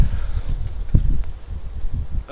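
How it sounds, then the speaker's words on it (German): Outdoors on a windy day, gusts buffet a smartphone microphone, making a steady low rumbling roar with irregular thumps and surges and no speech. "Es ist ziemlich windig heute."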